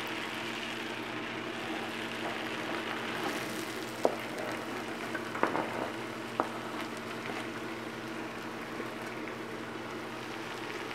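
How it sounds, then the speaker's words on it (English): Steady sizzling and crackling of butter frying in a very hot skillet, continuous and moderately loud, with a few sharp pops and utensil clicks. "I have some butter that is frying in my very hot skillet"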